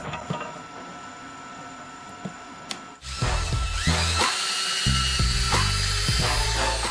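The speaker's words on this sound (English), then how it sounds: "I will use a jigsaw and a power drill for the drilling process. We'll drill a hole in the corner" Power drill boring a corner hole in a wooden board: quiet workshop hum and a few small clicks, then the motor kicks in with a loud, steady whine and grinding bite into the wood.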